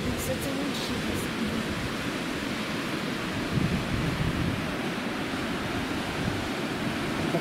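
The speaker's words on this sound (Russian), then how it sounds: "Ветерок дует, но сегодня очень суперская погода." Wind blows steadily along a seashore on a fair day, a constant broad rushing roar with surf-like wash and occasional buffeting gusts against the microphone, with no speech over it.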